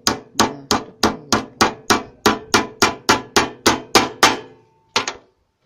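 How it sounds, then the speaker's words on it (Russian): Small nails are hammered into wooden beehive frames: a steady run of about fourteen crisp, evenly timed hammer strikes, then a brief pause and two quick final taps, close and clear with no talk. "По два гвоздика вбиваем."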